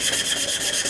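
Flexible sandpaper rubbed over a wooden bow tip, producing a brief, steady, close rasping scrape with a faint pulsing stroke rhythm.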